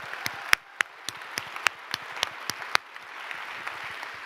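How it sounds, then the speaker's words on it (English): A crowd applauds the teams at a biotech startup demo day, a dense patter of many hands with a few sharp louder claps near the front, steady for a few seconds and then thinning out. "Let's give a round of applause to all the teams."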